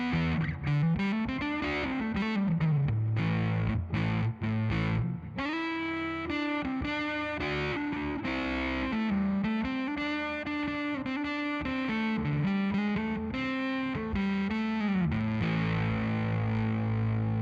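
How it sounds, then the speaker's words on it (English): Distorted electric guitar, a Godin A6 Ultra through a Fender distortion pedal, plays a melodic line with sustained, gritty notes and bends, heavily overdriven and fairly loud, with no talking. "And the Fender distortion pedal here."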